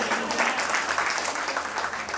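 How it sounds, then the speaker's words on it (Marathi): A crowd at a school batch reunion get-together claps for the president, a dense, steady burst of applause close by, with faint voices mixed in. "अध्यक्षांसाठी टाळ्या झाल्या पाहिजे"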